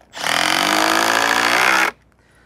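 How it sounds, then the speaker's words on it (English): A power driver sinks a stout screw into a wooden transport dolly in one loud, close, sustained whirring burst of about two seconds that cuts off abruptly into quiet. "Got some nice stout screws. So I'm going to screw these on"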